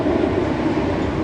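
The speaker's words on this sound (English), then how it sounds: "So we've got the mine train" A mine train roller coaster rumbles along its track at Six Flags Over Texas, a loud steady rolling roar with faint rail clatter and no voices.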